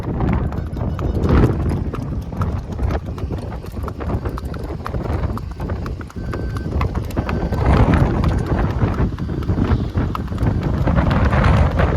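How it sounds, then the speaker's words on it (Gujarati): Hooves of a horse being ridden clip-clop in a fast, continuous rhythm close by, with a voice talking over the hoofbeats throughout. "આપણે ઘોડાને રાઇડિંગ કરવા નીકળ્યા છે"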